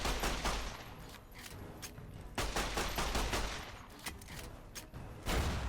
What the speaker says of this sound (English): I'm just gonna fucking shoot him.